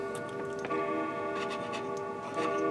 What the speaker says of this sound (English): And that clock you hear in the background